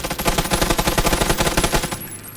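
Rapid automatic gunfire from the PUBG battle royale game rattles in a dense, loud burst of evenly spaced shots, then cuts off abruptly near the end.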